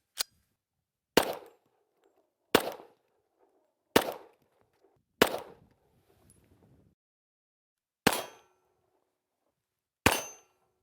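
Seven sharp Glock long-slide pistol shots ring out alone at uneven intervals, each a loud crack with a brief decaying ring, the fifth trailing a short rattle afterward.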